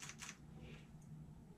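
A Fujifilm X-Pro3 mirrorless camera fires a short burst at about five frames per second: two or three quick, crisp shutter clicks up close, followed by faint mechanical noise against a quiet room.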